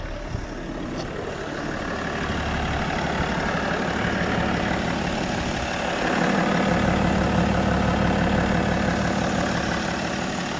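A BMW E90 325d diesel car engine idles steadily nearby after new glow plugs, a low rumbling chug that grows slightly louder partway through and keeps a constant rhythm.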